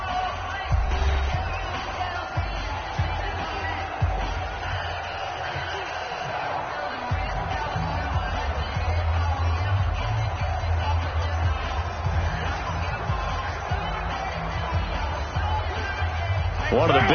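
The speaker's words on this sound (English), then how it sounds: "the crowd getting into it as we come up on a big third down" Stadium crowd noise from Madden NFL 20 builds during a third-down moment, a steady roar of cheering with thumps underneath, heard beneath ongoing commentary.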